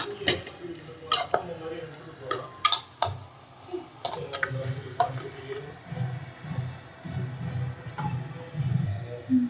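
A spoon stirs potato masala in a pan, giving scattered scraping clicks and soft patters over a low, steady sizzle at close range.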